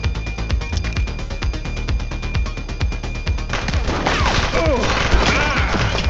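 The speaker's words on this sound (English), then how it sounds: "He's shooting!" Rapid gunfire from a police shootout in the video game The Precinct: dense, loud bursts of repeated shots in a steady rhythm, growing busier with crashes and echoing impacts toward the end, while a voice briefly calls out.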